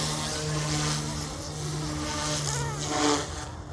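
An OMPHOBBY M2 EVO MK2 RC helicopter spinning its rotor at low RPM, a close, steady, droning buzz with a constant hum that wavers slightly in pitch.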